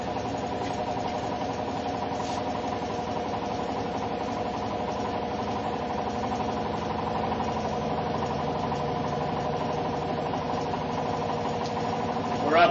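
A motor-driven free energy generator runs steadily and picks up speed, its close mechanical hum and whir holding a constant loud level with a brief surge at the very end.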